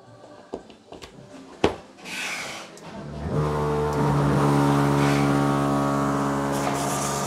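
A dual-outlet iron vertical garden watering pump with timer being switched on outdoors after 100 meters of hose: a few clicks and knocks, then a steady motor hum with a strong tonal drone and spray-like hiss that settles in.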